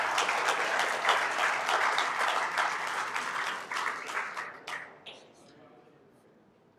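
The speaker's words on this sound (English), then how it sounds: "Shall we do a big round of applause for the ladies and gentlemen?" A large crowd at a live sports event applauds loudly and steadily for about five seconds, then the clapping fades into a quieter hum of the room.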